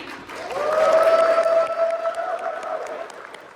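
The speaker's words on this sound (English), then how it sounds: "Big round of applause for Ryan Sheehy." Audience at a Transformers fan convention panel applauds as panelists come up front, a steady wash of clapping and cheering from a sizable crowd, with some tonal sound running through it.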